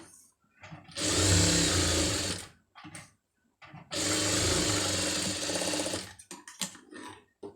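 Sewing machine stitching around a saree cloth sleeve, two loud close bursts of rapid mechanical whirring of about two seconds each, separated by brief pauses and small handling clicks.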